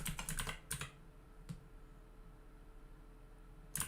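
Typing on a computer keyboard at a desk: a quick cluster of close key clicks, a single tap in the middle, then a final burst of keystrokes against a quiet background hum.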